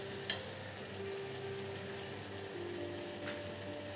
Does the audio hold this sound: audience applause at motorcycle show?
no